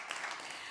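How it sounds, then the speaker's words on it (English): Short, faint patch of audience applause, a soft wash of distant clapping lasting under a second. "that deserves an applause"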